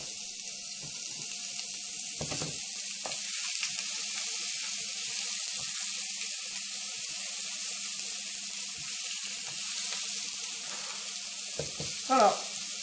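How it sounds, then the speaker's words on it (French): Steaks frying in a pan for an American-style raclette sandwich give off a steady, soft sizzle that runs throughout. A few brief clinks and stirring noises sit on top of the sizzle. "à la cuisson des steaks"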